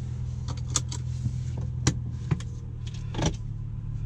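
A 2018 MINI Cooper S engine idles steadily after starting, a low continuous hum with a few light clicks and knocks over it.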